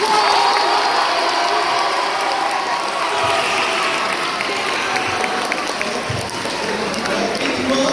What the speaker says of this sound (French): C'est un tonnerre d'applaudissements du public.